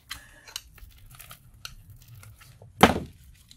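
Copper coils pried out of scrap steel, with faint scraping and clicking followed by one louder, sharp tearing crunch as a piece breaks loose.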